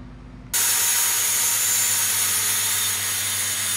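A track saw cuts an 8-degree angle through wood during treehouse building, starting abruptly and then running as a loud, steady, continuous whine for several seconds with no talk.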